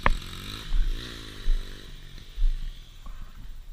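A Honda CRF 80 dirt bike revving in short bursts, its small engine rising and falling in pitch several times, loud and close with a buzzy, rasping tone and no talking.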